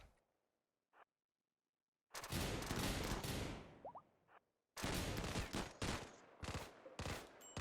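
Heavy bursts of gunfire from a RimWorld battle: a faint shot or two, then a long dense volley of rapid shots, a short gap, and another loud stretch of clustered firing.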